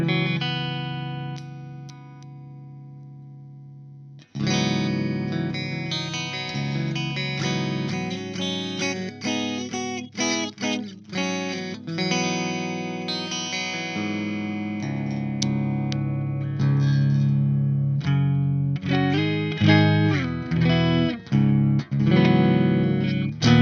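Electric guitar through a Peavey 3120 amp on its clean channel, a single ringing note giving way to a long run of chords and picked lines, close and clear, with no one talking.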